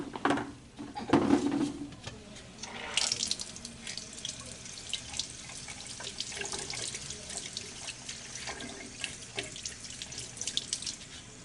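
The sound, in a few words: rinsing a lab tray under a tap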